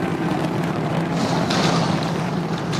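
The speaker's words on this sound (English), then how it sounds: "And we just heard the sonic boom." A deep, rumbling roar with a heavy low thud, broad and distant-sounding, a sonic boom from a SpaceX Starship booster slowing for landing, rolling over an open area.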